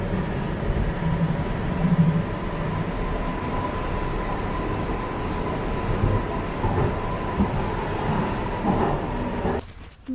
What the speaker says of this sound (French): j'adore vraiment l'ambiance que ça fait dans le métro